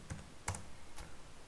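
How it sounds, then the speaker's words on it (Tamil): A password is typed on a computer keyboard, with a few sparse, quiet key clicks spaced apart. "அதில் அந்த பாஸ்வேர்ட் டைப் பண்ணுறேன்."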